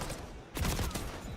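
Rapid bursts of gunfire from a Call of Duty esports match, a dense volley kicking in midway and continuing loud through the rest of the short stretch.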